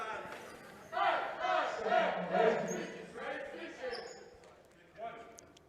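Spectators at a girls' high school basketball game between Sultan and another team cheer and shout in bursts of voices, rising and falling over several seconds under a nearby announcer's talk.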